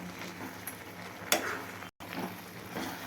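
Tamarind and tomatoes stirred over high flame in a pan for tomato pickle, giving a soft continuous sizzle with light scraping and one sharper clink of the utensil, close and quiet.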